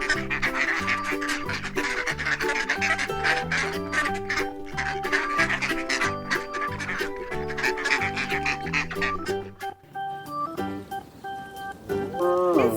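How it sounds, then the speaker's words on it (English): A toy duck from a Fisher-Price farm barn toy quacks over bright, continuous children's music, with a short burst of quacking near the end. "This is a duck."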